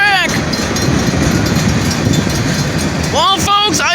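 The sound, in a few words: train moving onto the spare track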